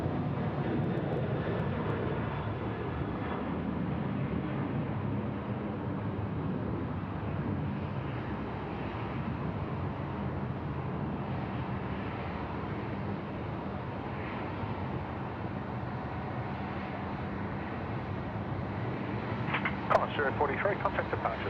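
Airliner engines roar steadily throughout as a plane lands on runway 34 left at Sydney Airport, a broad continuous rumble with some wind, and a brief sharper clatter near the end.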